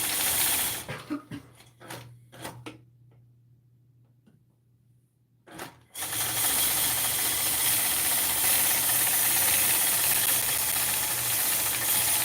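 A domestic sewing machine stitching during ruler quilting: a few short stop-start bursts and a quiet pause, then a long, steady, loud run of motor whir and needle clatter with no talking.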